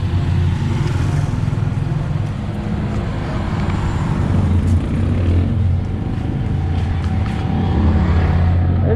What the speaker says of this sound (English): It's a little more traffic and people out today.